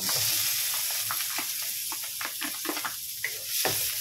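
Garlic and ginger frying in a pan for a Filipino dish, a steady close sizzle with crackling pops and stirring scrapes throughout, no talking.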